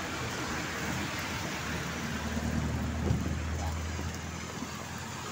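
Continuous rain outdoors in San Fernando, Pampanga, a steady broadband hiss with a low rumble beneath, constant in level and unbroken throughout.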